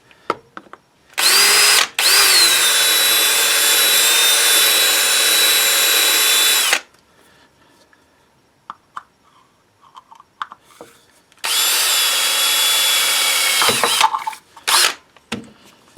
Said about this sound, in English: So we'll just drill a hole right there.